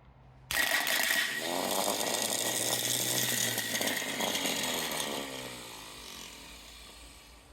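A '67 Mustang starter motor spins up suddenly with sparking, giving a loud, harsh, buzzing whir that holds steady for several seconds and then gradually winds down, close by and with no talk.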